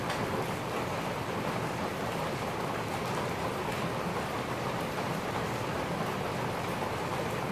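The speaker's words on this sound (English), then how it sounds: "Do you hear the rain?" Steady rain falling outside a coffee shop in Taiwan at night, a dense, even hiss of drops on surfaces with no talking.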